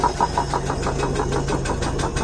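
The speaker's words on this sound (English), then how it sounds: "compressor's working, building up air, kicking in now" Air compressor on an old Ford D-series truck with a 300 engine kicks in and builds up air, a steady rapid chugging pulse that stays loud and close throughout.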